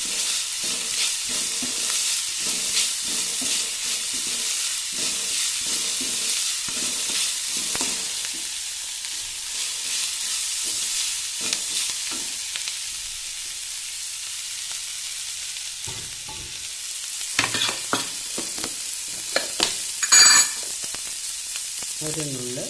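Grated jackfruit seed upma roasting in a pan over a raised flame, a steady close hiss of frying with rapid repeated scraping strokes of a spatula, pausing midway before a few louder scrapes return.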